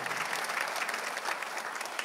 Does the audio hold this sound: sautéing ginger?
no